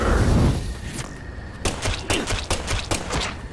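Rapid gunfire from Deadly Premonition 2 cracks out in a quick string of sharp, close shots after a heavy opening thump, the bursts irregularly spaced and loud.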